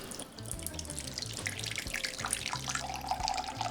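Rum poured from a bottle into a measuring cup while making Jamaican sorrel drink, a steady liquid gurgle and splash lasting a few seconds with small bubbling at the end, close and clear, no talking.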